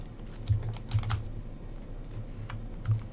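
Quick, uneven keystrokes on a computer keyboard as a rate figure is typed into a bond price and yield calculation, with soft clustered taps and a few sharper key strikes close by, no voice.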